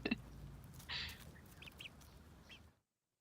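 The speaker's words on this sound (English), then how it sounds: "Now it's just playing the chickens eating strawberries." Chickens eating strawberries, heard as a few short, faint duck-like quacks and clucks over a low background rumble, ending in silence.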